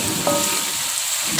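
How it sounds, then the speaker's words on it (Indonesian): Spice paste hits a hot pan of frying tuna and sizzles loudly and steadily at close range, a hiss filling the brief moment. "selanjutnya kita langsung masukkan ini bahan bumbu yang sudah saya siapkan ya"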